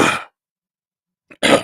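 A short throaty cough or throat-clear close to the microphone, then silence and a second brief burst.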